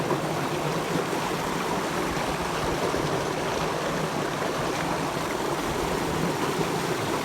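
Continuous rushing, splashing water pouring steadily at close range from a motor pump into a paddy field, with a faint low mechanical hum beneath and no voices.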